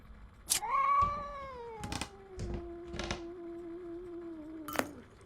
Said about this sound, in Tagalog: Pusa!